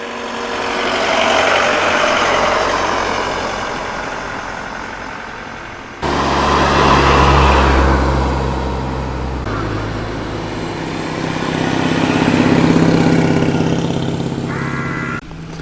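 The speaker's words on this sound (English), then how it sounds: "Here a Ford Transit Mark II van." A Ford Transit Mark II van arrives at a Weston Park classic car show, its engine droning loud and close, swelling and easing as it rolls past with outdoor background noise.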